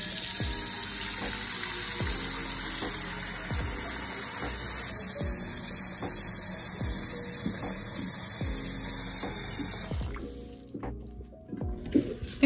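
Water runs from a tap into a bowl for a flower arrangement, a steady close hiss with regular drips and plinks, ending in a few splashy, uneven sounds as the flow stops.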